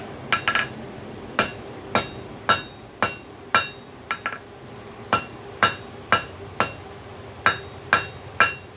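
A hammer strikes a hot coil spring steel cold chisel in a quick series of sharp metallic blows, about sixteen in all, close and ringing, with short pauses between groups.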